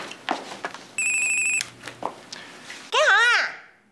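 A telephone rings with a short electronic trill, followed after a pause by a louder warbling ringtone, while people talk briefly in between.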